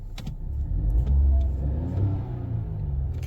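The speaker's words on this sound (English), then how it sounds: "Car sounds actually normal." A car engine idles close by with a low, steady rumble that swells slightly mid-clip before settling, with no talking; the car has just started after its battery was charged.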